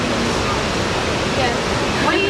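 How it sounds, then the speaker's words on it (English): Sekumpul Waterfall in Bali roars as a steady, loud, close rush of falling water that fills the whole moment without a break. "This waterfall is amazing."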